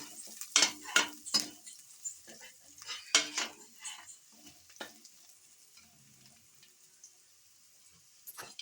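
Close stirring in a pan while asafoetida is sautéed, with irregular metallic scrapes and clinks of a spoon over a soft sizzle, loudest early and then thinning out, no voices.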